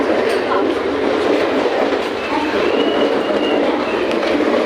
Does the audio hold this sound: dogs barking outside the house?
no